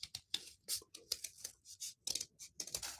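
Scissors snipping through cardstock: a quick run of sharp, crisp cuts in an uneven rhythm, close and fairly quiet, with no talking.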